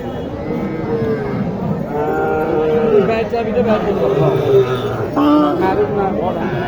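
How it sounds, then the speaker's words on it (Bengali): Cattle moo repeatedly at close range at a livestock market, long low calls overlapping one another amid background talk and a busy crowd. "এখানে দেখেন দুইটা গরু একসাথে পাতা আছে"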